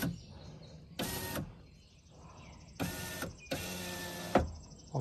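Power window glass on a third-generation Toyota Tacoma door motoring up and down in three separate whirring runs, close and clear in a quiet space, with short pauses between them.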